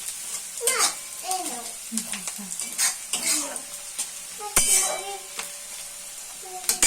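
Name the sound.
frying chopped ginger in a pan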